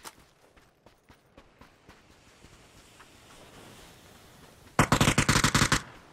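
Automatic gunfire in the battle game PUBG: faint scattered single shots at first, then a loud, rapid burst of about a dozen rounds near the end, with no talk.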